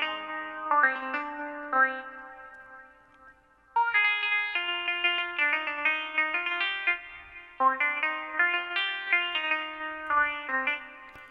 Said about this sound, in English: It's an electric guitar,